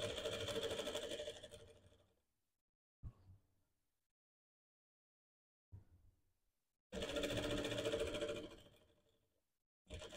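A sewing machine stitches a dress seam in two long bursts of running motor noise, separated by silence, with a couple of short mechanical clicks between them and a final burst starting at the end.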